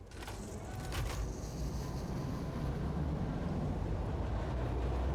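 A train in the Satisfactory factory game rolls steadily into a station, its low rumble sustained and fairly loud with no talk over it.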